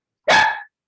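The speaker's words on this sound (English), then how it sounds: "that's your dog. He's also interested in my class." A single dog bark, short and fairly loud, standing alone with no talk around it.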